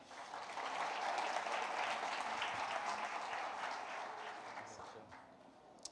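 A church congregation claps together during a celebration service, a steady wash of applause that holds for several seconds and tapers off near the end, with voices mixed into it.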